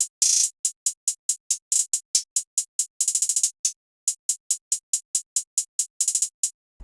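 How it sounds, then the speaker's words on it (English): Bouncy hi-hat pattern for a trap beat, crisp and close, with steady ticking hits, quick rolled bursts now and then, and a brief gap before the pattern resumes alone. "I started off with this simple but bouncy hi-hat pattern."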